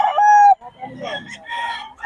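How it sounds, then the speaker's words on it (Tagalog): A rooster crows loudly nearby at a market in Bocaue, Philippines, followed by softer clucking and calls from other young chickens. "Mga manok. Mga bata pa."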